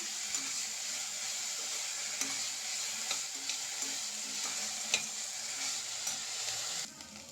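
Onions being stirred and sautéed in a pan while making kappa, with a steady close sizzle of frying and occasional scraping stirs, without speech.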